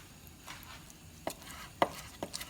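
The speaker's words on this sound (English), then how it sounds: "Alright, so I'm going to chop this up." A knife chops cooked chicken thigh on a cutting board for black-eyed peas, giving a few sharp, irregular thuds over a quiet room background, close and moderately loud.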